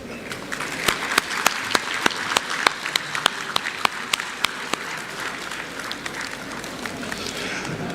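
Applause at a national conference on mediation, a steady bed of clapping from the audience marked by a string of sharper individual claps standing out near the front.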